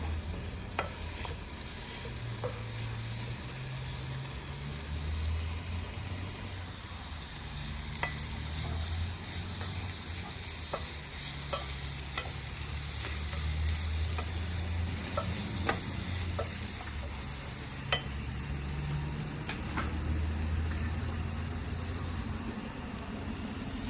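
Onions and homemade burger patties fry on an outdoor South African braai, a steady low sizzle with scattered crackles and ticks running throughout, fairly quiet and with no talk.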